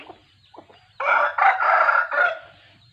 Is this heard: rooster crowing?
yes